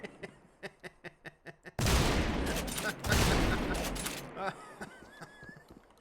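Shotgun blasts fire in a video game, with heavy, dense bursts of gunfire after a run of short clicks, then a fading tail and a few light taps.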